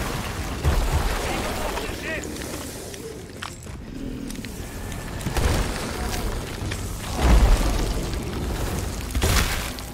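Booming gunshots and impacts ring out during a pirate fight in the video game Sea of Thieves, several loud bursts spread over a busy background of game noise.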